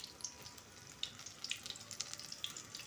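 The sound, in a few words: egg snack frying in a pan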